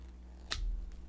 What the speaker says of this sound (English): I'm going to cut this end off